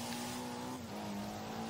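A LEGO Speed Champions car drifting through a corner in Forza Horizon 4 gives a steady, fairly quiet engine hum with a faint tire hiss beneath it, lasting under two seconds.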